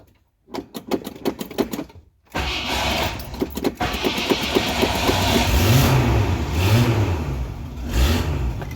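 An old car that is hard to start cranks in a rapid stuttering run, then the engine catches and runs loud and close, revving up and down a few times.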